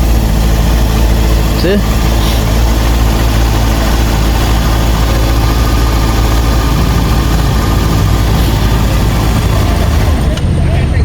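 A QJMOTOR SRK600 naked sportbike engine idles up close, a loud, steady low rumble with a constant vibrating drone; a person briefly speaks over it.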